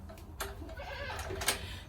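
Goat kids bleating close by in a farm pen, several short wavering calls, with one sharp cry standing out near the end over a low background rumble.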